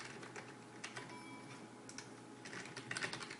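Quiet, scattered keystrokes of a password being typed on a computer keyboard, irregular light clicks at close range over a faint background hum, with no talking.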